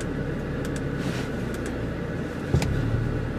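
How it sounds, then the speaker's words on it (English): A 2015 Audi S3's engine runs steadily, a continuous close drone with a slight rise near the end and no talk over it. "We're going to try launch control in the 2015 Audi S3."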